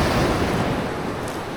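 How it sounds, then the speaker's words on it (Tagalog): Steady, rushing roar of large ocean surf over a shallow rocky shore, loud and close, with a slight easing as the wash continues. "So medyo malaki yung alon guys."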